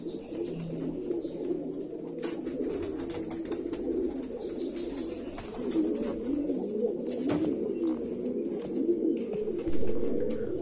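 Pigeons of mixed breeds in a loft cooing in low, repeated throaty bursts, with several birds overlapping near and far and occasional wing flutters.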